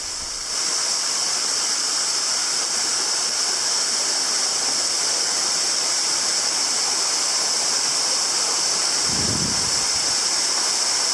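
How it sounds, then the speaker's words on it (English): A waterfall in Hidden Jewel Gorge, Australia, pours with a loud, close, unbroken roar and bright hiss, starting abruptly and holding steady, with a brief low thump near the end and no talk. "Number one waterfall."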